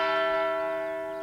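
A single large church bell hangs in a town hall belfry and rings over the whole town. One sustained, decaying strike rings out alone with a rich cluster of steady overtones.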